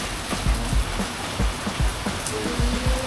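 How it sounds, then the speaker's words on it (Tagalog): Steady, dense rain hiss fills the scene in Tagaytay, Philippines, with low thumping gusts and splashes recurring throughout; no voices, just a constant wet roar. "Lakas ng ulan dito sa Tagaytay."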